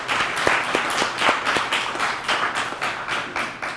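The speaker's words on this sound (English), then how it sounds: "give them a round of applause" A graduation ceremony audience for service dogs and their veteran handlers claps steadily, a dense patter of many hands with a few sharper nearby claps standing out.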